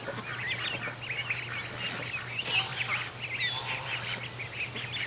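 Muscovy ducks and small ducklings fill the air with a busy run of high peeping chirps and soft calls, close by, over a low steady hum.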